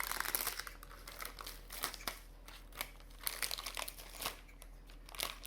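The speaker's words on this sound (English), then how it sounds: "I'm going to open the bag" A plastic bag of Warburtons crumpets is cut open with scissors. It gives soft, quiet crinkles and sharp little crackles in short irregular bursts close by.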